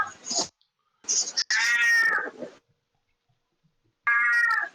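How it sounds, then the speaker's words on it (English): A cat meows loudly nearby in several drawn-out calls, with a pause before a final meow. "He sits at the front of my room and just meows at me randomly."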